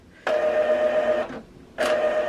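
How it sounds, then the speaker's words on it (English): Epson ET-2720 inkjet printer starting up after the start button is pressed: two sustained motor whirs with a brief pause between them, close and clear with no talk. "Now it's initializing. At this point, you cannot turn off the printer."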